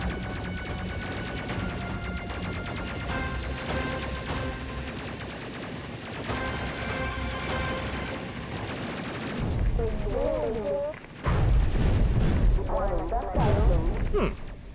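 Rapid bursts of gunfire from a spaceship's forward nose gun in the space combat game Space Crew, steady and continuous under background game sounds, with a voice talking near the end.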